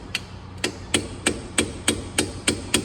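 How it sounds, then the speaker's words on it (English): Metal hammer strikes land on a punch tool against brake parts during a pad replacement, eight sharp evenly spaced taps in about three seconds, close and clear. "Alright, give me that hammer, Trey."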